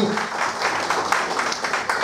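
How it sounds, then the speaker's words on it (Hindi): An audience applauds steadily at a business event, a dense, continuous wash of many hands clapping throughout. "अपन ताली बजा सकते हैं"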